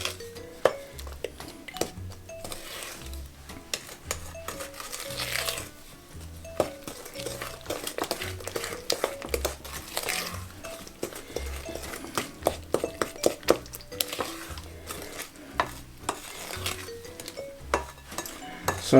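Cookie dough ingredients get mixed in a bowl with irregular scraping, clinking and knocking of a utensil against the bowl, close up and fairly quiet, steady throughout with no speech.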